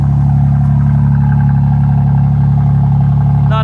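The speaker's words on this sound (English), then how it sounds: "Not a bad little rumble, burbly, turbocharged inline 6" A BMW M2's turbocharged inline-six idles after a cold start with a loud, steady, burbly low rumble right up close, unbroken from start to finish.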